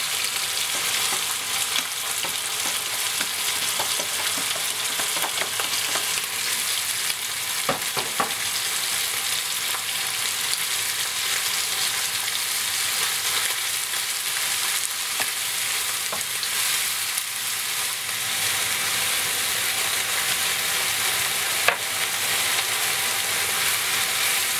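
Onions and minced meat fry steadily in a pan for taco rice, giving a dense, even sizzle that runs the whole time, with a few light scrapes and stirs breaking through near the start.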